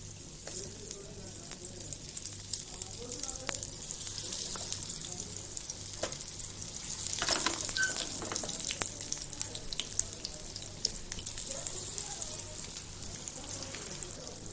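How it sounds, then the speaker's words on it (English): Semolina-coated spicy eggplant slices sizzle and crackle continuously in a hot pan, a steady close frying hiss with occasional sharper pops. "My pan is hot, so now I'm going to begin my frying."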